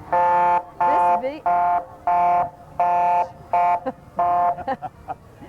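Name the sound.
emergency vehicle beeping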